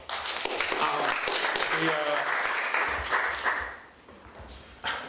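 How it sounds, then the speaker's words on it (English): Audience at a public meeting about oil barges on the Hudson River breaking into applause, clapping mixed with voices and crowd noise that swells and then fades out toward the end. "I think that deserves a round of applause."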